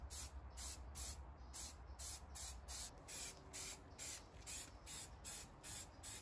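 Repeated short bursts of a spray gun hissing as it lays light coats of primer on a car, about a dozen even pulses in a steady rhythm, close and fairly quiet.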